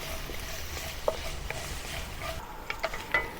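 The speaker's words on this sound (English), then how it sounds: "saute these ingredients until they release the aroma." Aromatics and dried chilies for Sichuan boiled beef are stirred in a wok, a quiet, steady sizzle broken by soft scraping and a few light clicks of the utensil against the pan.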